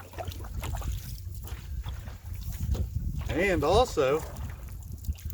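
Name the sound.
paddling a canoe on windy water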